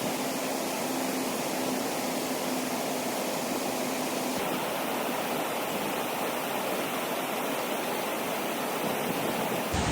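A small waterfall roughly twenty metres high in the Cirque de Cilaos on Réunion roars as a steady, dense rush of falling water, loud and close, continuous with no voices.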